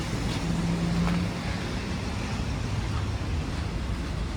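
Steady wind buffeting the microphone on a Toronto street, a constant low rumble and roar with no pauses, fairly loud throughout.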